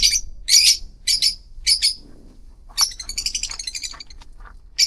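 Parrots and lovebirds kept in an abandoned former cinema and bowling alley chirp in sharp, high bursts, first spaced calls and then a rapid run of tweets, close and clear with no talk.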